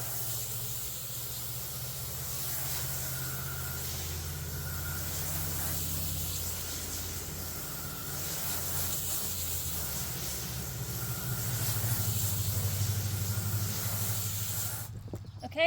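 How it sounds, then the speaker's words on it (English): A water hose rinses out the cavity of a freshly butchered chicken, giving a steady close hiss and spray that swells slightly near the end before a sharp clatter. "So now we're going to rinse this out."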